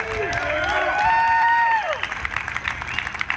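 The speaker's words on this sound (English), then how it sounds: "Give him a big round of applause." A crowd at a Second Amendment rally in Tallahassee applauds a speaker with rising whoops and cheers that peak early, then trail off into scattered claps and murmurs.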